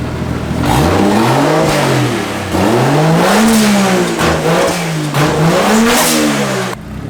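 A BMW E36 car fitted with a 1JZ engine revs hard nearby, several loud rising-and-falling engine sweeps in quick succession with no talking.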